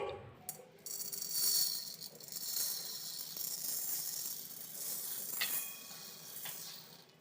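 Whole green moong dropped into melted ghee and roasting in a pan, giving a steady soft sizzle and crackle with light rattling as the beans shift, fairly quiet and close with no talking.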